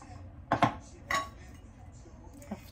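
Two plates knock and clink against each other as they are unpacked after a supermarket trip. There are two sharp close clinks close together, another clink, then a faint tap, heard against a quiet background.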